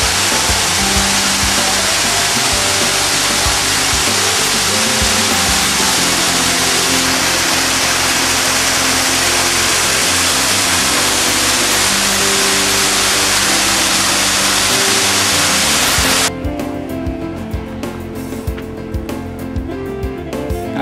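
Sherlak waterfall in a snowy mountain setting, a steady loud broadband roar of rushing water that runs unbroken, then cuts off abruptly near the end, leaving a quieter background.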